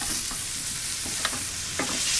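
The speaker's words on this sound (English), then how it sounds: "take some butter, get it into the pan, a couple cloves of garlic, smash it, garlic into the pan." Butter and smashed garlic cloves sizzle in a hot steak pan, a steady crackling fry with a few brief louder spits and stirring scrapes, no voices.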